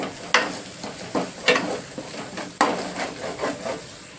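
Turmeric is stirred and fried in a pan as the base for a korameenu fish curry, with rhythmic spatula scrapes and clicks over a low sizzle, close and without talk.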